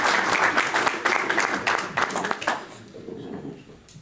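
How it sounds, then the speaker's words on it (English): Applause from a crowd at a New Jersey Italian heritage awards assembly, dense clapping that swells and then tapers off toward the end. "So give him a big round of applause, Rita."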